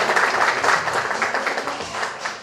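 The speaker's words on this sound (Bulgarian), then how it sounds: "Аплодисменти за кмета на Карлово." A crowd at a public event clapping in sustained applause for the mayor of Karlovo, a loud, dense wash of many hands that holds steady and then gradually fades.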